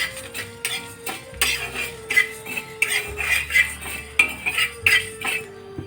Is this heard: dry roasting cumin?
yes